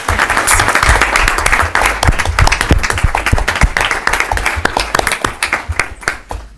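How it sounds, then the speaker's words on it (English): Audience at a school district board meeting giving a round of applause to a visiting principal, loud close clapping from a modest crowd with individual claps distinct, tapering off toward the end. "So again, another round of applause"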